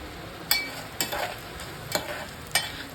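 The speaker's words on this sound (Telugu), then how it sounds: "సిమ్లో ఎండుమిరపకాయలని 2 పీసెస్ చేసి వీటిని కూడా బాగా వేపుకోవాలి" Fenugreek seeds and broken dried red chillies frying in oil over a low flame, a soft steady sizzle broken by several sharp clinks of stirring, with no voices.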